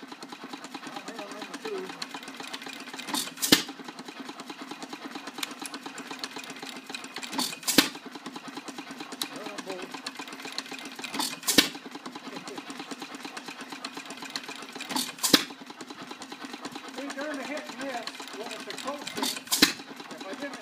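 A hit-and-miss stationary engine turns over quietly, punctuated by single loud firing pops spaced roughly four seconds apart.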